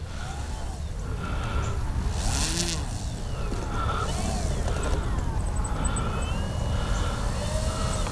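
An Avios Grand Tundra RC plane taxis over uneven ground, its electric motor whining steadily with pitch rising and falling as it turns, close and continuous, with some faint background noise.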